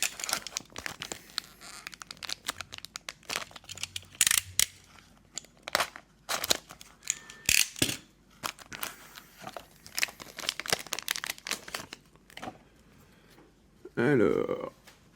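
A basketball trading card fat pack, Hoops 2023-24, is torn and crinkled open in irregular bursts of sharp foil ripping and rustling, close up, with a loud crackling tear near the end and a voice talking between.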